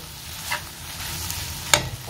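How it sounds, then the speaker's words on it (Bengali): Maggi noodles being stirred in a pan with fried onion, tomato and chili: a steady low sizzle with a couple of sharp utensil scrapes against the pan, close and alone. "এটাকে একটু নেড়ে নেবো"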